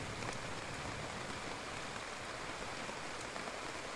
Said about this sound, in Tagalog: Kasi parang walang planong tumigil ang ulan.